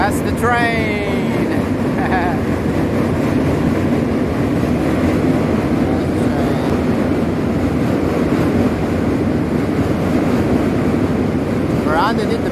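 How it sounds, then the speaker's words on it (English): A train crosses the bridge directly overhead, producing a sustained heavy rumble mixed with wind buffeting, with brief chirping tones near the start and end. "That's the train."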